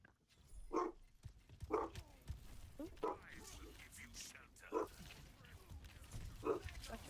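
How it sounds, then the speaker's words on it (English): A dog barks loudly in single rough barks at roughly regular intervals, with people talking over it. "That loud ass fucking bark"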